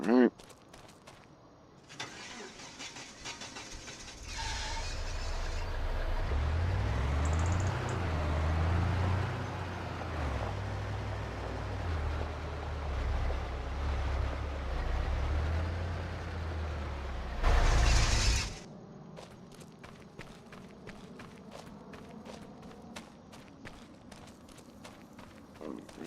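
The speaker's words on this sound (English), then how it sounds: "There's the tractor." Tractor engine in Farming Simulator 25 drones steadily at low pitch for about thirteen seconds before cutting off abruptly, with quieter game sounds and clicks before and after.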